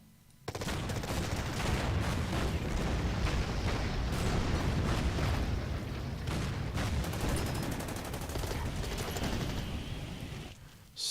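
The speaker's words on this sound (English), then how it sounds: "Steadily bombarding in an attempt to reduce the enemy" Artillery bombardment and gunfire rumble in the naval and ground war video game Order of Battle: Pacific, a dense, continuous barrage of booms and crackling shots that holds steady for about ten seconds.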